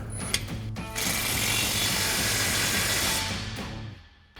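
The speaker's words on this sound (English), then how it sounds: "we've got our 8 mil Allen socket on our impact. We'll go ahead and tighten this down" An impact wrench with an 8 mm Allen socket tightens a bolt while an exhaust system is installed on an F-150. A short tap comes first, then about two and a half seconds of loud, continuous rattling hammering that stops abruptly.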